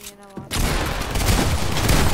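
Gunfire in Fortnite, a sudden loud burst of rapid shots that bursts in after a brief quiet moment and keeps going as a dense, booming volley, close and harsh.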